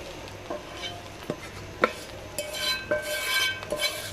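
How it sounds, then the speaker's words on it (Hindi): Vegetables are stirred into boiled rice in a pan over a medium flame for chicken fried rice. A spoon scrapes and clinks against the pan in irregular strokes over a faint sizzle. "तो यहाँ पे बॉयल चावलों के अंदर मैं ये वेजिटेबल्स ऐड कर रही हूँ।"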